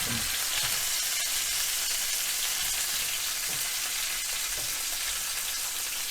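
Chicken sautés in a pan just after being flipped, with tarragon going in. A dense, even sizzle fills the whole stretch, loud and close, with faint scattered crackles and no talking.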